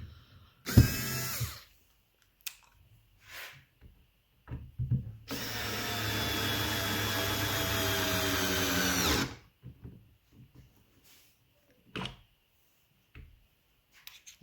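A power driver sinks white-painted screws into a white-stained wooden sliding barn door. There is one short burst, then a long, steady, close whir lasting about four seconds, with scattered light clicks and handling knocks around it and no speech.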